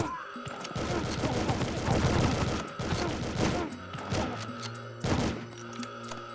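Rapid gunfire bursts from machine guns and rifles at an enemy airfield in the N64 game The World is Not Enough, dense crackling volleys with heavy thumps and a steady droning hum beneath, loud and continuous.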